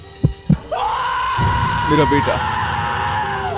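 A long, piercing scream rings out in an animated horror story, rising abruptly after two dull thuds and holding loud and sustained for several seconds before wavering at the end.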